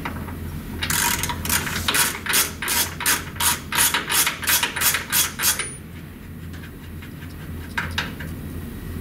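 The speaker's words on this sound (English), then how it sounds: "remove the stainless steel plug which houses the orifice, using the same 1-inch socket and ratchet" A 1-inch socket and ratchet loosen a stainless steel plug on a truck-mounted carpet cleaner's bypass manifold. About a dozen quick, loud, evenly spaced ratcheting clicks sound up close, then stop, followed by a soft clink or two.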